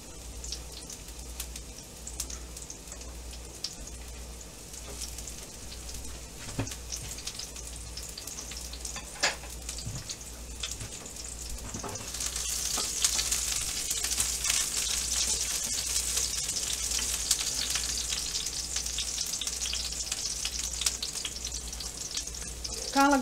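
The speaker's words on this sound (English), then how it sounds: "First, I add garlic, green onion, I'll use green onion white first." Garlic and white green-onion pieces fry in a cast iron pan for kung pao shrimp, giving a constant close hiss and crackle that grows brighter and more intense halfway through, with a low steady hum underneath.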